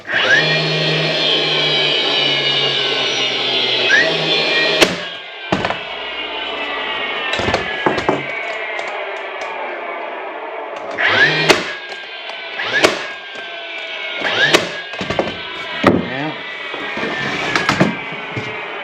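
Brads 1.5 inches long being driven into a wooden birdhouse with a power nailer or tool: a continuous whirring motor hum punctuated by a dozen sharp, irregular bangs and clacks, close and loud.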